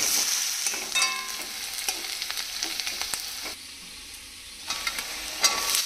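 Chopped vegetables fry in hot oil with browned onion and chilli, crackling and sizzling up close while a spoon stirs and scrapes through the pan, the sizzle briefly dipping before returning.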